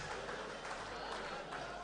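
Audience applause at a banquet hosted by the FCT minister in Port Harcourt, a steady dense wash of clapping from a large room that holds at an even level throughout, with a faint murmur of voices beneath.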